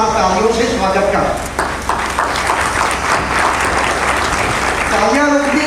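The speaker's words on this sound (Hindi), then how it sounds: "पूज्य श्री का जोरदार तालियों से स्वागत कर।" A large crowd at a religious gathering in Muzaffarnagar gives loud, sustained applause to welcome a revered guru. The clapping is dense and continuous, and an amplified voice speaks over it at the start and end.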